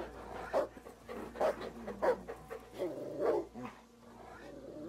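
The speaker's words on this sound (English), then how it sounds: "Woof, woof, woof, woof, woof." Dogs bark in the battle game Total War: Attila, about five sharp barks and yelps spaced irregularly over a low steady background hum, moderately loud with no speech.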